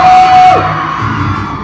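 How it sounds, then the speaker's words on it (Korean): Korean fans cheer and yell at the Seoul premiere of Maze Runner: The Scorch Trials, a loud, dense crowd roar with a sustained whistle-like tone early that fades into steady noisy cheering. "이기용 씨를 큰 박수로 맞이해 주시죠"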